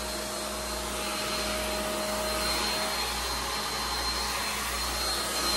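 A blow dryer used to shrink plastic wrap onto bags gives a steady, even whooshing hum with a faint whine, constant and close throughout, no voices.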